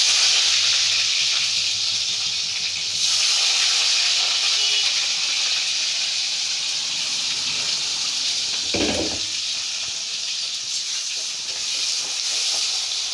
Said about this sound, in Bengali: এই তেলটার মধ্যেই আমি পেঁয়াজটা ছেড়ে দিচ্ছি।